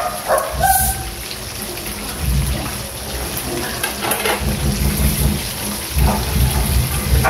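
Dogs bark in intermittent bursts outdoors against a steady wash of heavy rain and rumbling, with no voices.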